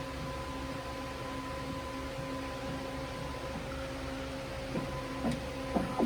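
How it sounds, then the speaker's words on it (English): A booklet maker moves its stitch head back to the home position with a steady electric motor hum and whine, joined near the end by a few soft mechanical clicks. "It's still moving one of the stitch heads over to the home position."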